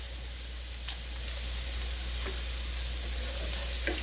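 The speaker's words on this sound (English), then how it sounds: "All right, my vegetables are sauteed until tender." Vegetables for a seafood and chicken paella sauté in a pan with turmeric, giving a soft, steady sizzle and hiss under a low hum, with a few faint stirring clicks and no talking.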